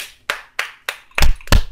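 Five sharp hand claps in a steady rhythm, close by, the last two louder and fuller.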